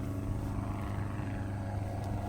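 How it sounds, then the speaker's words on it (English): A plane drones overhead as a steady, low, distant engine hum with no change in level and no voices. "And then I heard this plane."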